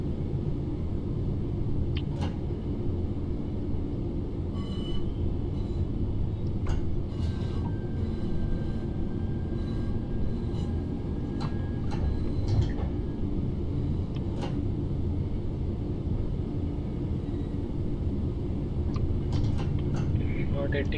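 Class 323 electric multiple unit in Train Sim World 4 on the Birmingham Cross City line, running with a steady low rumble and rail noise throughout, with occasional faint clicks and a thin high whine over the drone.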